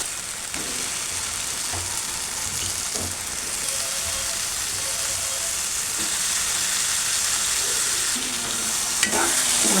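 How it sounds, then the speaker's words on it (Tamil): Mushrooms frying in masala gravy in a pan are stirred steadily, a constant close sizzle and hiss with soft scraping stir strokes throughout, no voices. "இதை நல்லா கலரி விட்டுக்கோங்க."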